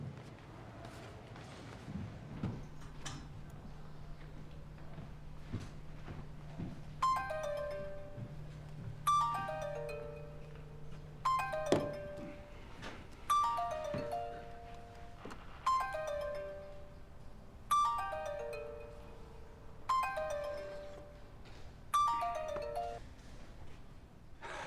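Phone ringing in a law office, a repeated melodic ring tone with regular bursts roughly every two seconds, fairly faint against quiet room tone, after a low steady hum in the opening seconds; no speech.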